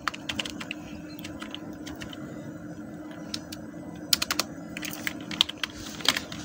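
Someone types on a computer keyboard, a quiet run of irregular key clicks with occasional quick bursts and pauses, over a low steady room hum.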